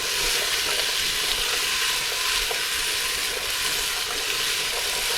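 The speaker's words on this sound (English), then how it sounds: "So we're still giving it a saute." Ingredients for chicken katsu curry sauteing in a pan, a loud, continuous close-up sizzle with steady hissing and no voices.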